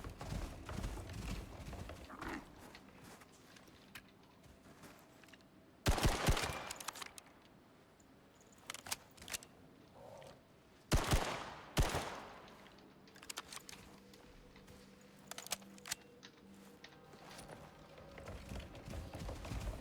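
Guns firing in the survival game Icarus, bursts of rapid shots in two loud clusters amid scattered lighter clicks and thumps over a low background.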